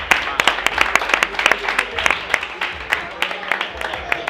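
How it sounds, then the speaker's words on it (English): A reunion show audience gives a round of applause, a few seconds of scattered, moderately loud clapping with uneven rhythm, close and fairly sparse rather than a dense roar. "Let's give a round of applause for tonight."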